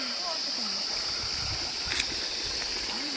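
A strong, fast-flowing water stream rushes steadily and close by, a continuous broadband hiss, with a faint voice underneath.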